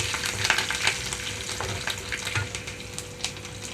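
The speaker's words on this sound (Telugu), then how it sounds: "ఇందులోకి వెల్లుల్లి రెమ్మలు అలాగే కరివేపాకు కూడా వేసేసుకుంటున్నాను చూడండి పచ్చిశనగపప్పు అంతా కలర్ మారిపోతుంది" Garlic and curry leaves frying with chana dal in hot oil while making okra fry, a steady close crackling sizzle with small sharp pops throughout, no talking.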